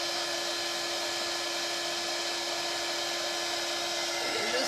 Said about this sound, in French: je vais faire un peu de bruit parce que j'utilise le pistolet chauffant pour faire fondre la poudre